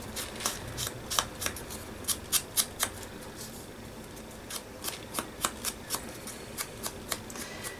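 Paper being torn by hand to rough up the edge of a junk journal tag, a close series of quick crisp ripping bursts in two uneven runs, with no talking.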